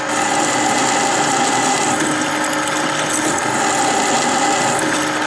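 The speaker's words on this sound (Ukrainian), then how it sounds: "Після чого планую 12-м сверлом сверлити." A drill with a 12 mm hard-steel bit bores through a metal front suspension part from a VW T3, a loud continuous high-pitched grinding whine held throughout at close range.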